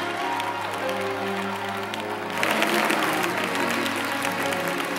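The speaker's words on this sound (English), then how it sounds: "give the Lord a hand clap of praise" A church congregation breaks into hand clapping in praise partway through, as a steady crowd of claps rises over sustained choir or organ tones that were playing alone at first.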